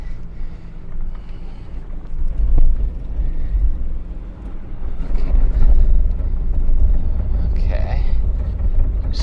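A Lexus GX460 crawling slowly off-road in 4 low, its low engine rumble steady under heavy wind buffeting, with occasional knocks and crunches from the terrain.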